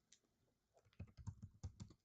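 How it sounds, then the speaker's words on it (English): Typing on a computer keyboard, a quick irregular run of close key clicks that grows denser and louder in the second half, with no voices. "Goodness, my typing skills today, or lack thereof."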